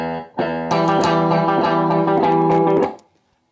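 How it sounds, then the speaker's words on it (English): An electric guitar played through the analog delay of an Earthquaker Devices pedal rings out in sustained, distorted chords with repeating echoes, then cuts off and tails into silence. "That's what the analog delay sounds like."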